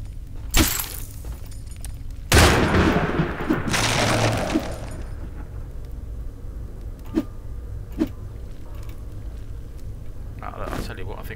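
Frost bombs burst in a video game with two loud crackling, shattering blasts, the second one longer and sustained. Sharp ticks and clicks follow, and a voice talks through the quieter stretches.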